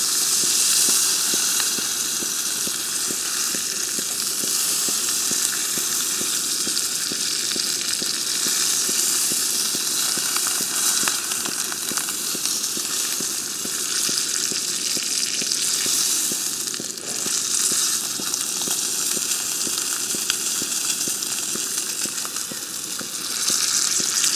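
Ribeye steak searing in a pan on a camp stove during a reverse sear, giving a loud, continuous, close-up sizzle and hiss with no letup and no talking.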